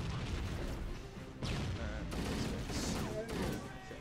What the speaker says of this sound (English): let's just chuck some grenades